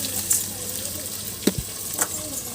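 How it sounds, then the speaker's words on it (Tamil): Onions sautéing in a pan over a wood fire for mushroom dum biryani, a soft steady sizzle with a few brief scrapes and knocks of stirring. "இப்போ வந்து நம்ம வெங்காயம் எல்லாமே போட்டாச்சு. 2 நிமிஷம் வந்து நல்லா வதக்கி விட்டுலாம்"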